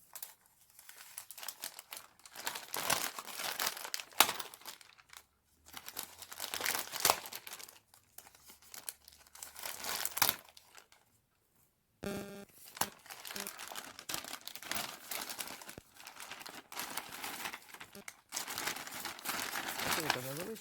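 Paper and plastic packaging from a Ukrposhta postal parcel is crinkled, torn and unwrapped close up in repeated bursts of crumpling, with a short pause midway.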